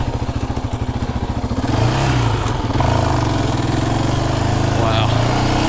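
A 2022 Yamaha Raptor 700R SE ATV engine runs under load while riding, throbbing steadily and loud up close, with the pitch shifting as the throttle changes and wind noise running throughout.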